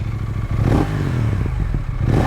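KTM 990 Duke 2024 motorcycle fitted with an Akrapovic exhaust, revving up close in a steady, loud burst with a low rumble, clattering pops and a brief thump, alone without talk.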